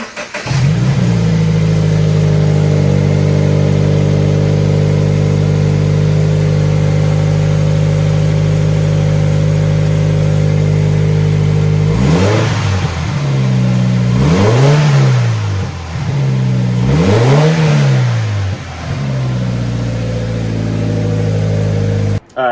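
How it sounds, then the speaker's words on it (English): Car fitted with a Tomei overpipe exhaust idles with a deep, steady drone, then revs three times, each rise swooping up and falling back, loud and close. "we're gonna start this car up now, and we'll see the sound difference"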